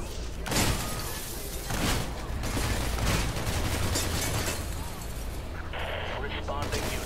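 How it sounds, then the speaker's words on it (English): Dense, rapid bursts of gunfire from the violent shooter video game Hatred, loud and sustained with heavy low-end booms and overlapping shots throughout, briefly easing near the end. "Last known gunshots were in the front of the building."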